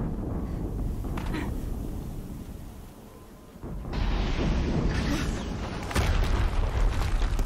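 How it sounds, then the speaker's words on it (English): Explosions in the Horizon Zero Dawn video game, heavy low booms rumbling from a distance, with a larger blast arriving partway through and another near the end. "I wonder what all those explosions are."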